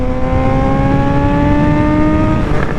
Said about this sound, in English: I got in earplugs and I still can hear this engine scream.